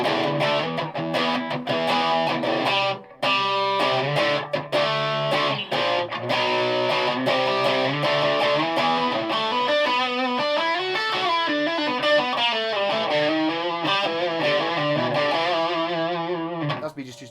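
Electric guitar on its bridge humbucker played through a 1991 effects pedal, a distorted, chorus-tinged riff with sustained chords and picked notes, loud and close, pausing briefly near the start.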